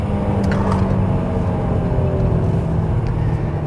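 A 2016 Honda Pilot pulls hard from a standing launch, its engine a loud, steady roar that carries unbroken for a few seconds with no voices over it.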